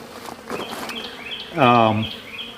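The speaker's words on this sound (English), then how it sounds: "I see a lot of activity here on the landing board." Honeybees at a hive entrance landing board give a steady low buzz, with one louder, closer buzz rising for about half a second as a bee passes near.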